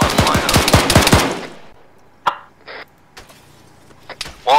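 Rapid automatic gunfire in the Arma military simulation during a night milsim operation: a loud, fast burst of shots for over a second, then silence broken by a few isolated sharp cracks and thuds.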